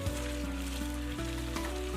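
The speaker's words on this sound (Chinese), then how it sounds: "颜色金黄以后，翻过来煎另一面。" Tofu pan-fries in hot oil, giving a steady, close sizzle with a soft crackle. The sizzle runs without a break under a faint low hum.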